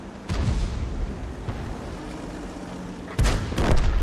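Tank cannon fire in a tank battle game, with several heavy booming shots at irregular intervals and a rumbling background between them, loud and close with no voices.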